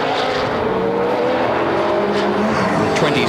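A Toyota Supra touring car at the 1993 Sandown 500 roars by with a loud, continuous engine drone, holding steady and close throughout.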